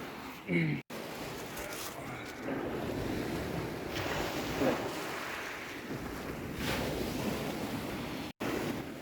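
Surf washing over a pebbly shore near Saxon, Wisconsin, a continuous rushing hiss with some gritty rattle, wind buffeting the mic and brief speech near the start.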